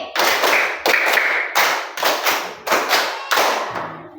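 Sharp hand claps in a steady rhythm, several quick bursts close to the listener, with brief pauses between groups and no talking.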